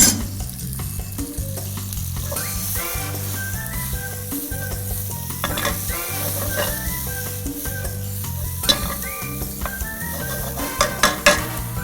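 Onion and firm button mushrooms caramelizing in a pan for chicken cacciatore, a steady close sizzle and fry with scattered clinks and scrapes of a utensil stirring against the pan, no talking.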